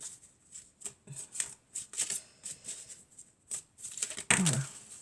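Tarot cards are shuffled by hand in a series of close, crisp riffles and soft flutters, with short pauses between bursts and a louder final shuffle.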